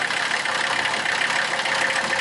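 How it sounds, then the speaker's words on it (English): A Mercedes engine idles on its first start of the year with a worn engine mount, giving a steady, continuous broadband running sound with no breaks and no talk over it. "I was going to want to let it sit here and idle and clear out for a while before moving it."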